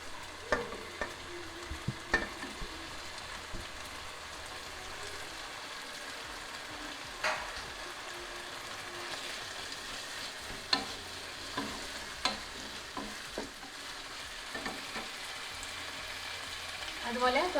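Tomatoes are stirred into a simmering masala for Kerala-style vegetable biriyani, a soft continuous fry under repeated sharp spoon clinks and scrapes against the pot, nearby and moderately quiet.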